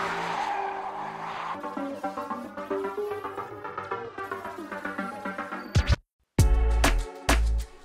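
Aston Martin DB12 coupé on the Zolder circuit, its engine note rising and falling through gear changes with tire squeal, then abrupt cut-off and sharp bursts near the end, fairly loud and close.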